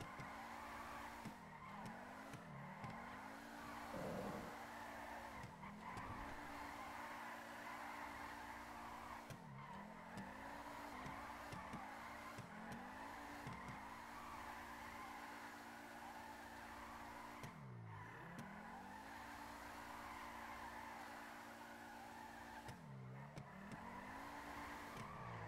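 Supra drifting in GTA V, engine droning steadily while tires squeal in long wavering howls, the revs dipping and swooping again and again through a sustained run of slides, loud and close with no talking.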